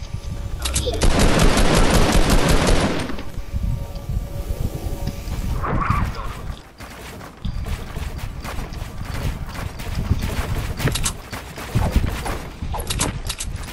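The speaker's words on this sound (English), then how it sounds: "You getting shot at again?" Loud bursts of automatic gunfire in a shooter video game open the passage, followed by scattered shots and clatter from the game over a continuous background.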